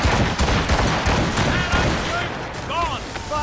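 Ship cannons fire in a naval battle in Assassin's Creed Rogue, a dense booming volley of blasts over rumbling explosions, with voices shouting amid the barrage.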